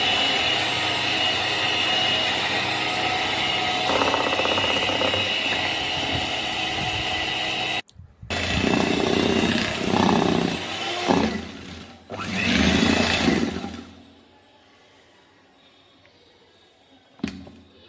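An electric mixer beats Thoothukudi-style macaroon batter with a steady loud whir, then runs in choppy bursts with brief cutoffs before falling quiet near the end.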